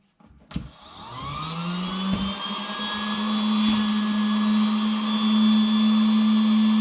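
An electric pump whirs to life after a click and steadily inflates a Trekology UL80 sleeping mat, its motor a loud, close, continuous drone that settles into an even pitch.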